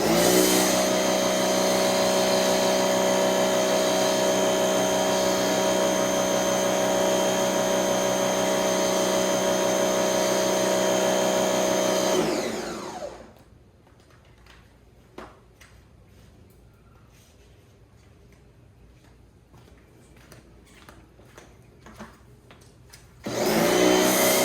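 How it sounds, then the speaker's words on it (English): Electric pressure washer running with an MJJC foam cannon, a loud steady motor whine and spray hiss for about twelve seconds that cuts off into quiet clicks, then starts up again near the end. "This one is not a gas machine, so of course it is not the best performance pressure washer that I'm using"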